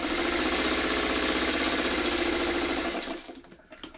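A sewing machine back stitches a partial seam on a wonky circles quilt block, a dense, loud motor whir with rapid needle clatter that winds down and stops near the end.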